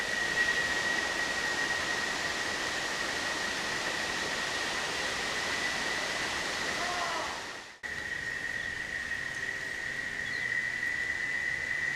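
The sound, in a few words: small waterfall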